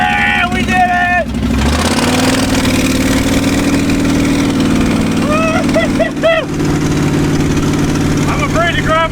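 Abandoned Ford F250 truck engine, running after 26 years, idles with a loud steady rumble and revs up, with people talking and shouting over it throughout.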